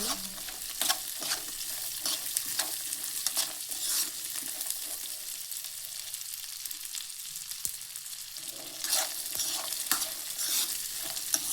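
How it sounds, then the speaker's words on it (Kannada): Food for a Ramadan festival sweet, sirkumba, fries in a pan while a utensil stirs it. The sizzling runs steadily throughout, broken by repeated scraping strokes. It sounds close and fairly loud, with no talking. "ಇನ್ನೊಂದು ಸ್ವಲ್ಪ ಫ್ರೈ ಆಗಲಿ ಸಾಕು. ಫ್ರೈ ಮಾಡಿಕೊಂಡು ಸೈಡಿಗೆ ಇಟ್ಕೋಬೇಕು ಫ್ರೆಂಡ್"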